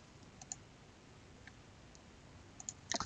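Computer mouse clicks while working in road design software: a few faint, sparse single clicks over quiet room hiss, with a small cluster at the end and no talking.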